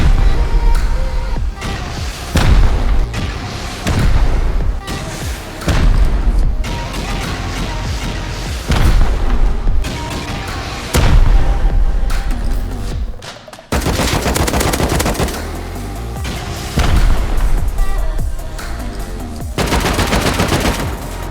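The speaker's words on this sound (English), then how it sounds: "All right, this is a lot of rockets." Rockets and gunfire in a Rust base raid, a rapid series of loud, sharp blasts and bursts of shots that repeat in uneven clusters, with a short lull before the barrage resumes up close.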